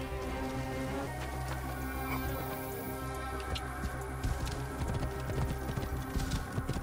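Hooves of a horse in the video game Assassin's Creed Origins clop in a quick, irregular rhythm, faint and layered over steady game ambience and a low background hum.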